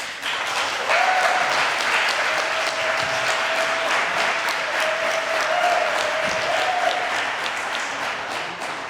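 Audience applause for guest speakers at the close of an evening community development program, a steady, dense clapping that fills the room for about nine seconds, with a faint tonal whistle or feedback line running underneath.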